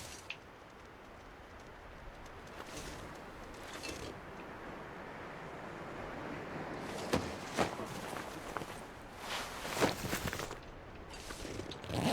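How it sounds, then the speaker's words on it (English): Footsteps in the survival video game The Long Dark crunch faintly over a steady wash of wind-like ambient noise, growing a little more distinct toward the end. "I hear footsteps."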